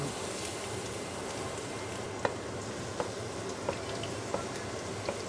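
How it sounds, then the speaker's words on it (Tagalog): Garlic fries in oil with a steady, soft sizzle, faint and close, broken by a few small pops and taps at irregular intervals. "Lagyan ng mantika. Lagay ang bawang."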